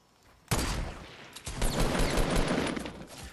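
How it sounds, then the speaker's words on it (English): Gunfire in the video game Fortnite breaks out after a brief quiet moment, a loud, close burst of rapid shots followed by sustained, dense firing. "I need you to shoot at this kid, man, Stan"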